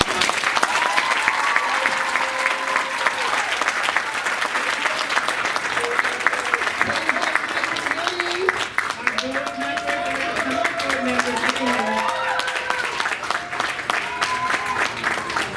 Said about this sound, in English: please give these kids another round of applause